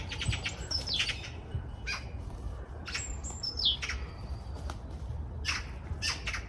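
Magpies out in nature give harsh, scolding squawks and chatter in several bursts over a low outdoor rumble, at a middling distance and with no voices.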